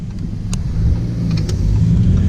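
A Lamborghini Huracan Performante drives with its dual-clutch gearbox in automatic mode, giving a steady low engine drone and road rumble heard from inside the car, with a couple of faint clicks on top and no talking.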